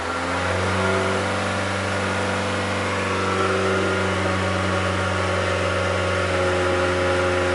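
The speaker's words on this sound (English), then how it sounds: "Let's hold the RPMs up." A 2003 Mazda Protege with a misfire at idle is held at raised RPM, its engine a constant, loud, even drone with a steady hum and no change in pitch throughout, and no voices.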